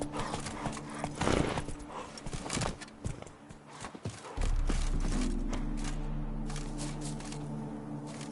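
Hooves of Geralt's horse Roach in The Witcher 3 clop and shuffle close by amid movement noise, then give way to a steady low rumble.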